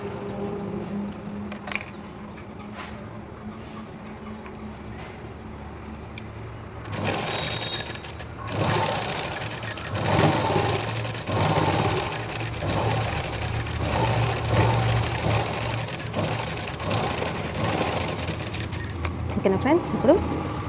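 Sewing machine stitching sleeves onto a garment, starting after a quiet stretch and then running steadily and close with a continuous whirring rattle, while someone talks over it.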